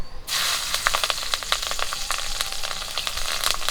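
Crackling sizzle of green chilies dropped into hot oil, a dense spitting hiss with rapid pops, close and fairly loud, no voices.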